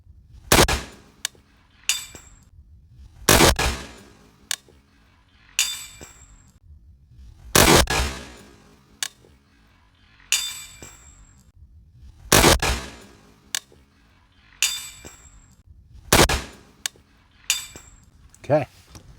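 A PRI MK12 .308 rifle, unsuppressed, fires about five sharp, loud shots spaced several seconds apart at a steel target, with fainter metallic pings and clinks between them.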